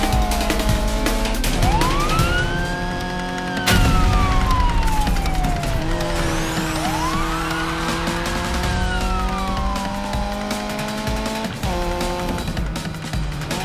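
A police car siren in a Need for Speed game wails in rising and falling sweeps over a busy engine roar, loud and close, with a few sharp impacts in between.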